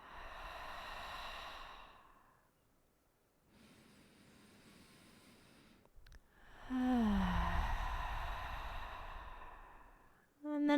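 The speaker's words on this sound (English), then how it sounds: "Maybe inhaling through the nose and exhaling out the mouth." Kundalini yoga breathing, drawing air in through the nose and releasing it out the mouth: soft breathy exhales and inhales in slow cycles, close and alone, with a brief snort-like burst near the end.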